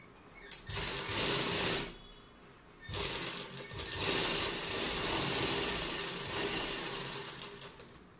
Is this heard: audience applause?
no